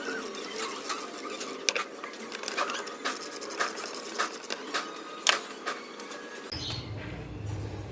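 Sharp ratcheting clicks and metallic knocks as a wrench loosens a bolt on the belt tensioner of an Isuzu 4JJ1 engine, with irregular bursts close up and a shift to a lower rumble near the end.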